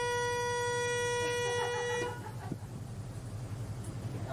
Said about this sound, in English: You blow it. Get a horn sound, kind of sound like this.